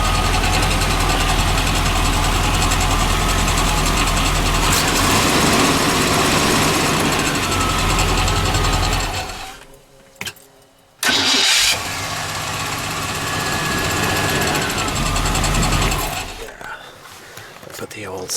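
A 1989 P30 motorhome engine runs loud and close at a steady idle, cuts out briefly, then cranks and starts again and settles back to idling, with a voice speaking over parts of it.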